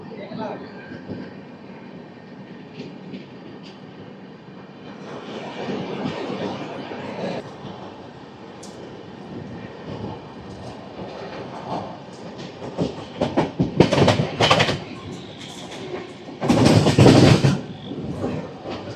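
Garib Rath Express on the Visakhapatnam–Secunderabad run picking up speed, a steady rumble and wheel clatter swelling into loud bursts near the end, with a voice talking over it.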